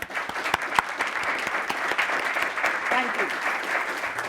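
Sustained audience applause fills a healthcare workforce conference hall, dense steady clapping from start to finish while a voice briefly speaks over it.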